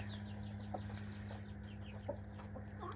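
Backyard chicks cluck softly and intermittently, a few short calls scattered over a steady low hum, with no talking.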